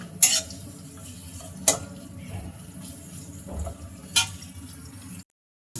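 Onions frying in oil in a pan for a beef curry, with a steady low sizzle and three sharp scraping stirs of a spoon against the pan, recorded close up.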